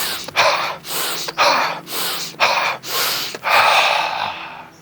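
Forceful rhythmic yoga breathing: five or six sharp, loud breaths drawn in steady succession, each a hissing rush of air with short pauses between, close and alone.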